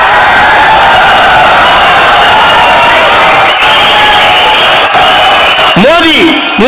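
A large seated audience rises to welcome two heroes at a political gathering, loud dense crowd cheering and shouting sustained throughout, with whoops and a few sharp bursts near the end, close and overpowering.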